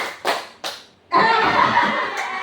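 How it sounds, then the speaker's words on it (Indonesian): A group claps for an icebreaker, with two separate single claps followed by a dense burst of clapping from many hands, close and fairly loud. "Tepuk 1, tepuk 2, tepuk 3, tepuk 1 2 kali."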